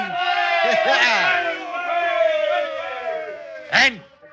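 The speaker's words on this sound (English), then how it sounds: "Give a cheer, lads." A group of sailors in an old radio drama raise a loud, ragged cheer together, voices whooping and bellowing for a few seconds, capped by one sharp shout near the end.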